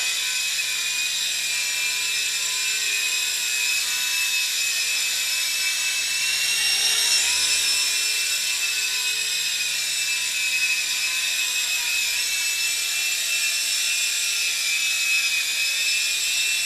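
A Sky Rover Dark Stealth RC helicopter flies indoors, its steady high-pitched rotor and motor whine running unbroken for the whole stretch and swelling slightly in the middle as it passes closer.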